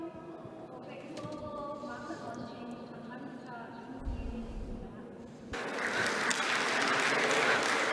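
Audience applause greeting a keynote speaker at a conference, swelling into loud, dense clapping in the final seconds after a stretch of quieter hall noise with voices.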